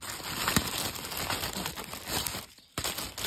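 Crinkly plastic seed packets rustle and crackle close up, with a few sharp crisp bursts and a brief quiet gap near the end.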